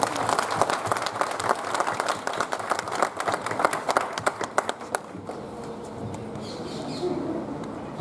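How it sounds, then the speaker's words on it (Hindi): A crowd claps loudly at a 75th Independence Day ceremony in a district collectorate compound, a dense burst of applause that thins into scattered claps and fades out. "जोरदार ताली हो जाएगी।"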